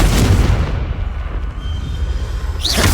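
Confringo blast spell from Hogwarts Legacy gameplay: a loud, sustained booming rumble with a short burst near the end.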